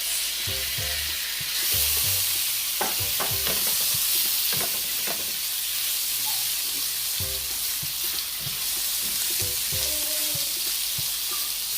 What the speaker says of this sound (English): Then I'm going to just go ahead and add my shrimp to it.